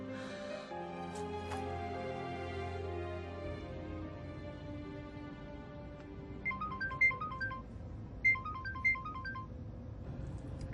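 A phone ringtone chirps in repeated short electronic bursts, fairly clear over a steady low background hum and music.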